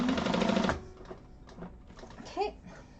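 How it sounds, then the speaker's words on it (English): A sewing machine stitches a tote bag in a short, loud whirring burst, then stops while people talk quietly in a class setting. "making sure you're not sewing through that channel"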